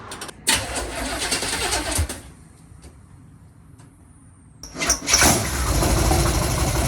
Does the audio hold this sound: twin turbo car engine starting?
yes